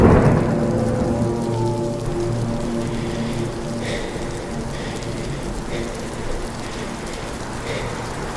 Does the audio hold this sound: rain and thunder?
yes